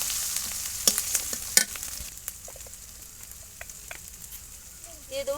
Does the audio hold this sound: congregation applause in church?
no